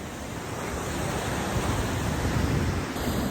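Sea waves breaking on a rocky stretch of the Kerala coast during lobster fishing, heard as a dense, continuous roaring wash of surf that swells slightly toward the end, with no voices.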